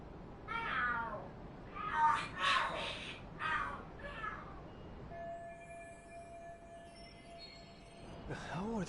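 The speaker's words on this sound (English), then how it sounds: "Are there cats fighting?" Cats yowl and screech in a fight in the video game Lost Judgment, with several drawn-out caterwauls in bursts, followed by game sound effects and another cry near the end.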